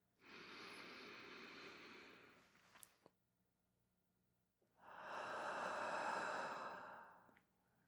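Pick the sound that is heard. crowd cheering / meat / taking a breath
taking a breath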